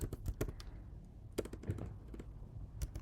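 A git commit command being typed on a computer keyboard: quick irregular clusters of key taps and clacks with brief pauses, close and fairly quiet.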